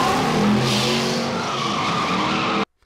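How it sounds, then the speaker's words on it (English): Tires skid loudly in a dramatic film scene on a long straight road, a tire blowout sending a car into a steady squealing slide for nearly three seconds before cutting abruptly to silence. "The tire blew out."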